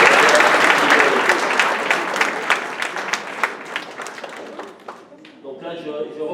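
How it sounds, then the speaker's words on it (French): Dense applause from an audience at a municipal awards ceremony for local sportspeople fills the hall, holding steady for about five seconds before thinning out, with scattered claps and a voice emerging at the end. "on peut encore l'applaudir"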